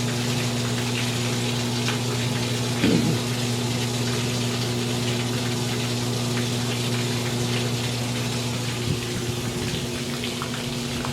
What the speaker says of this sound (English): It's that itty bitty pump motor.